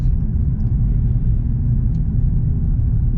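A Mercedes CLE coupe with a nine-speed automatic cruises along, giving a steady, loud low rumble of engine and road noise from inside the cabin, with no talk.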